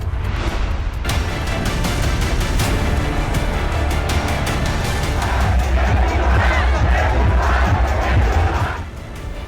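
A large, dense crowd chants and shouts at a Lionel Messi event in Arun Jaitley Stadium, Delhi. The roar is loud and sustained with rhythmic pulses and fades near the end.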